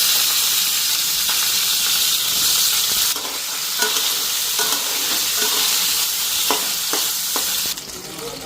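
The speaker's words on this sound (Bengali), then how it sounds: "বেগুনটা একটু ফ্রাই করে নিই" Eggplant fries in a pan for mustard eggplant, a loud, dense sizzle that runs continuously, with scattered taps and stirring scrapes close up, no voices over it.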